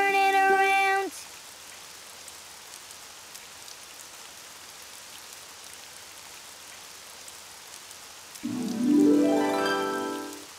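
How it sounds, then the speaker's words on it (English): Steady rain falls outside as a soft, even hiss filling the whole stretch, with brief bursts of sung or tonal sound at the very start and near the end. "Oh, it's raining outside."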